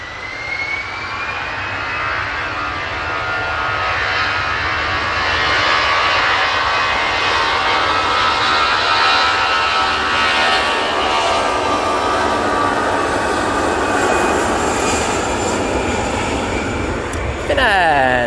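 Ryanair jet airliner on its takeoff roll at Manchester Airport, a loud sustained engine roar with whining tones building steadily across the whole stretch, no talking.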